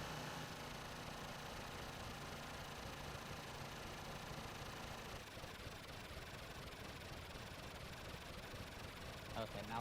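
Engines run with a steady, rough mechanical drone and rattling vibration throughout, fairly close, shifting slightly in tone midway, with no clear talk over it.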